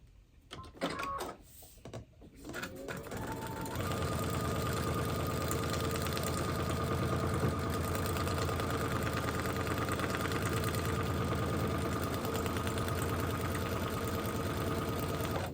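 A sewing machine stitches a foundation paper pieced quilt block, starting after a few handling clicks and then running in one steady, continuous hum for the rest of the time.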